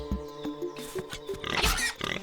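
A pig-like Moblin in Zelda: Link's Awakening gives short, snorting oinks over chiptune-style game music. There is a brief grunt at the start and a louder, noisier burst of grunting later on.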